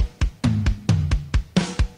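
Drum kit played in a short steady groove of about eight sharp hits in two seconds, booming low strikes mixed with bright cymbal or snare crashes, loud and close with no talk.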